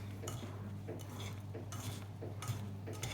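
Half an aubergine's slices being tossed with salt in a bowl, producing quiet, repeated clinks and scrapes of a utensil in a few quick strokes.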